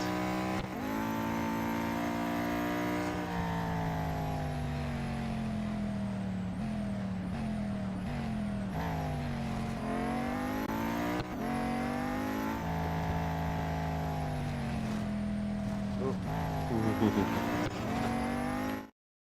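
Venom F5 race car engine in the Real Racing 3 game, heard alone throughout: a loud continuous roar that climbs steadily in pitch through repeated gear shifts, with short dips between revving surges.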